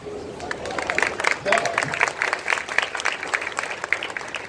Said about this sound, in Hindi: आप लोगों ने ताली बजाना शुरू किया